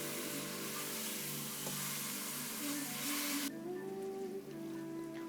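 Mutton stir-fried in a pan with ginger and garlic, giving a soft, steady sizzle that runs close but quiet, thinning out near the end while a faint tonal hum lingers.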